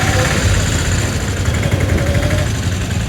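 A motorcycle engine hums and vibrates continuously, close and fairly loud, with a low rumbling throb throughout.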